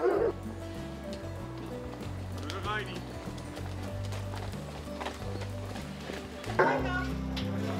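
Hunting hounds with the Midland Hunt yelp and bay among four horses while hooves clop, the dogs' excited cries rising in bursts under near-constant talking and a low drone.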